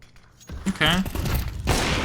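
Gunfire in Counter-Strike 2 lands as a quick burst of sharp shots and thuds, followed by a second harsh volley, with a voice talking over the action.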